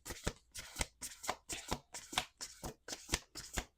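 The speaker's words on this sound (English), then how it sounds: "Last shuffle." Tarot cards are shuffled close up in quick repeated riffles, about a dozen crisp papery bursts in a steady rhythm with no voices.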